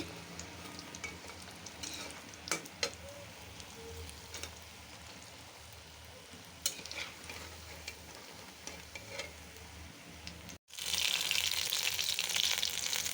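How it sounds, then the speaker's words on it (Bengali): Cauliflower fritters frying in oil give faint bubbling and crackling at first. After a brief gap, a much louder, dense sizzle swells up close. "এটা কফি ভাজা হচ্ছে"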